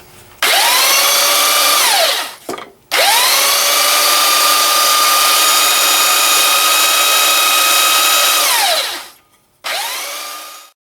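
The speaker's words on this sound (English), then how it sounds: "Okay, I've just got a regular belt sander here." A belt sander sanding wood, running loud and close in two long sustained whirring passes with a brief drop between them, then a short final burst as the motor spins up and winds down.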